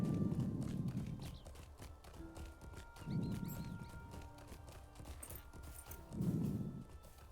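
A horse's hooves clip-clop at a steady walking rhythm while riding through Middle Earth in the online game Lord of the Rings Online, with footfalls coming in close, regular clusters and faint game ambience behind.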